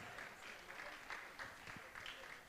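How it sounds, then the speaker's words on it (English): Audience applause at an interactive session in Adamawa, a steady wash of clapping heard at a moderate distance and fairly faint throughout, without any talking over it. "A round of applause for them, please."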